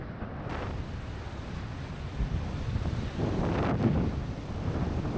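Gusty wind roars across the microphone at San Martin de los Andes, a lakeside mountain town, a constant low rumble that swells and buffets in stronger gusts with no voices.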